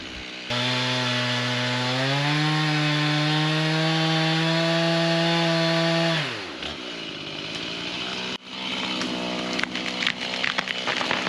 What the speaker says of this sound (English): One last little back cut, and she is coming down.